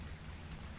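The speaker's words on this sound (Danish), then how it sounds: "Vi skal bygge et tag, det regner." Steady rain patters down in the game ARK: Survival Evolved, a brief, soft, even hiss.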